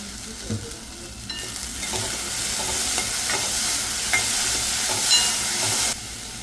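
Pavta field beans roast in a pan with a little salt, giving a continuous close sizzle and hiss with scraping stirs and occasional light taps, steady throughout.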